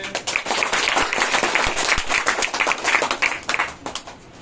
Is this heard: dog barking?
no